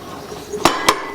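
Two sharp metallic clinks close together while hot water is handled on a ROK Presso Smartshot manual espresso maker, loud bright knocks against a quiet background.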